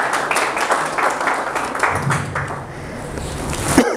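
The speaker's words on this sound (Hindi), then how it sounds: "तालियां मार सकते हैं वैसे, आप क्यों रुके?" An audience at a CSS exam seminar with Prof Imran Siddique applauds at the Iqra Institute. It is a dense, steady wash of clapping from many hands that holds for about four seconds, then thins slightly near the end.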